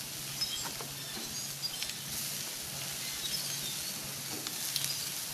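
Marinated barbecue chicken wings sear in a hot pan with a steady, fairly quiet sizzle and faint pops and crackles, with no talking over it.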